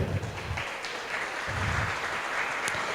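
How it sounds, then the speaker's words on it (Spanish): Audience applause after a church Bible lesson, a steady patter of clapping that runs through the full stretch at moderate level, with faint low murmurs underneath. "Un aplauso para los que levantaron el libro."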